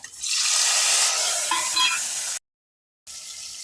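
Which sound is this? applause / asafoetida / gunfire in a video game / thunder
asafoetida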